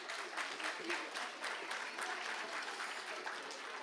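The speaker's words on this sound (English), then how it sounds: "Give them a big round of applause." Dense, steady applause from a large audience at a kids' school annual day in Singapore, with crowd noise and some voices throughout.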